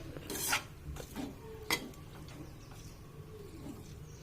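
Wood apple tamarind rice being stirred in a pan over heat, with soft scraping and light clinks of a spoon against the metal, a few sharper knocks early on, otherwise quiet and steady.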